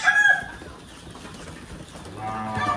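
On a small farm of native deshi chickens, a hen gives a brief cluck at the start, and more clucking and a low murmur of fowl sound faintly in the background.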